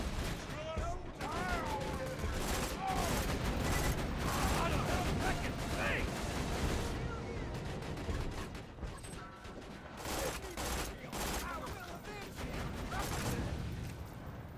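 Turret gunfire in the video game Borderlands 2, steady rapid bursts with mechanical clatter running throughout, loud and close, with a voice talking over it at times.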